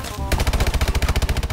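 Rapid automatic gunfire from a weapon in the video game Call of Duty Advanced Warfare, a loud, close burst of evenly spaced shots following a brief quieter lead-in, with no talking.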